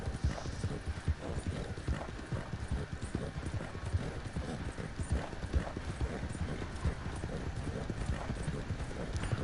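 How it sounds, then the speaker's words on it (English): Rapid hoofbeats gallop steadily throughout in Red Dead Redemption 2, a dense, continuous clip-clop rhythm of horses running, fairly close and even in loudness. "The Morgan is the tiniest horse in the game."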